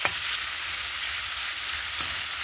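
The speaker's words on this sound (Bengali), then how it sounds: "চিংড়ি মাছগুলো খুব বেশি লাল করে ভাজলে শক্ত হয়ে যায়।" Prawns frying in hot oil for a Bengali prawn and pumpkin curry, a loud continuous hissing sizzle heard close up with a couple of faint pan knocks, no voices.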